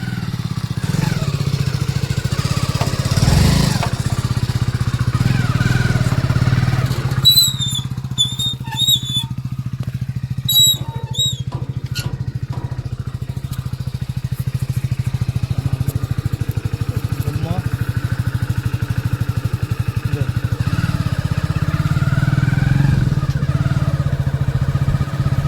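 A motorcycle ridden along a road toward a village, its engine droning steadily close by, with rattles and a few squeaks over the ride and people talking at times.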